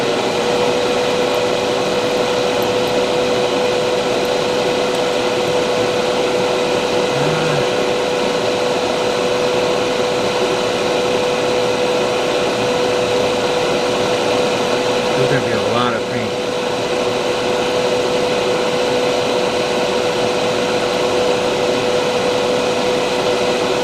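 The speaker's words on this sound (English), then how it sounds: "I'm going to turn on the fan because even though I'm not painting, I'm going to let the air suck it out." Extraction fan running in a model painting workspace: a loud, constant whooshing hum with a steady tone that persists unchanged throughout, with a couple of faint handling sounds underneath.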